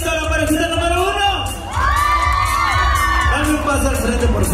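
A crowd at a contest in Houston, Texas shouts, whoops and cheers loudly for a couple, a dense, close wall of yells and high cries that dips briefly, then swells again.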